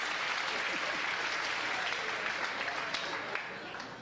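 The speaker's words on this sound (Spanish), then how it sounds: "Aplaudan, aplaudan." Comedy club audience applauding at a stand-up show, steady dense clapping filling the room and tapering slightly at the end, with no talk over it.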